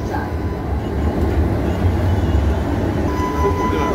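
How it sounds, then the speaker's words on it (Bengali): Kolkata metro train running near Dum Dum station, a steady close rumble of wheels and carriage with a faint high whine entering toward the end, continuous and without talk. "এই দেখো মেট্রো এবার বাইরে চলে এসছে।"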